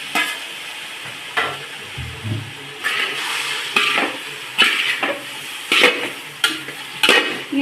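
Meat pieces being stirred and fried in a pan of browned onion masala for a pork-style potty fry, with repeated scraping stirs over a steady sizzle, close and fairly loud.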